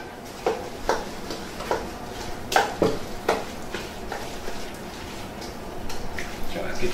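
A spoon stirs breadcrumbs into mirliton stuffing in a bowl with a steady run of scraping, ticking strokes about every half second, close and moderately loud.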